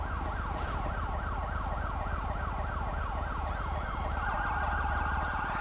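Wailing emergency vehicle siren, a fire engine arriving at a crash scene in GTA V, with a steady rising and falling two-tone sweep repeating continuously over a low engine rumble, close and loud.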